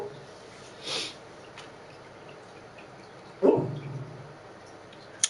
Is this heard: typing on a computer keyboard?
no